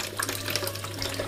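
Tap water running from a faucet into a kettle balanced on a sink, a steady close splashing and trickling stream, loud and continuous with no talk.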